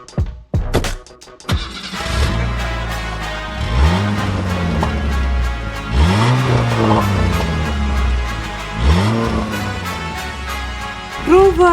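A car engine revs repeatedly, with three rising and falling surges over a steady running drone, while people talk nearby.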